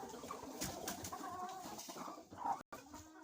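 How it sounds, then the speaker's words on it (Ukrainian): Hens settling onto their nests in a coop, soft clucks and murmurs heard faintly and close, with a brief dropout near the end and no speech. "Ось мустяться нестись курочки, посідають."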